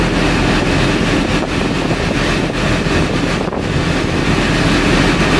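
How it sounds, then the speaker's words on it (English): A BMW's air conditioning runs on its maximum cold setting, a loud, steady, broadband rush of blowing air filling the car cabin, with no talk. "So the car is blowing actually pretty warm air right now."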